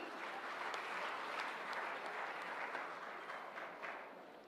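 Sustained applause from a large crowd at an academy's annual celebration in India, a steady wash of clapping heard at a distance that slowly tapers off.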